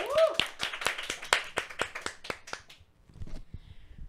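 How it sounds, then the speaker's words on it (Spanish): A small studio audience claps at a Catholic faith discussion program, scattered hand claps ringing out steadily for about three seconds before thinning into quiet murmurs. "y pido un gran aplauso también."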